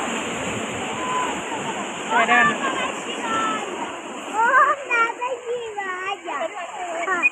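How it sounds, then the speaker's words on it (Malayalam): Rushing water from a waterfall roars steadily while splashing and children's excited voices carry over it. "ഇവിടെ ഒരു ഫോൾസ് ഉണ്ട്"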